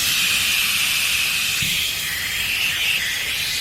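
Compressed air leaks from a worn rubber seal on a truck with a steady, loud, high-pitched hiss that continues the whole time. A faint low rumble runs underneath, and there is no talking.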